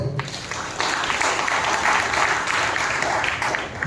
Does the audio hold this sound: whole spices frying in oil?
no